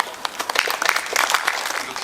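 Applause at a memorial service welcoming the deceased's son forward, brisk clapping from a gathered crowd that builds over about two seconds, with some murmuring mixed in.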